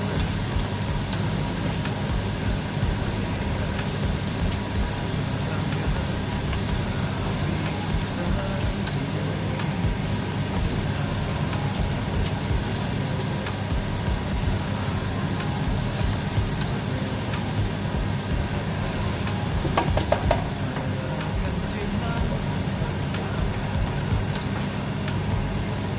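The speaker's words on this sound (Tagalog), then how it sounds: "Habang ginisa natin siya, timplahan natin siya ng asin." Vegetables and carrots sauté in a pan for ukoy, producing a steady, dense sizzling hiss that continues unchanged throughout, with a few faint clinks.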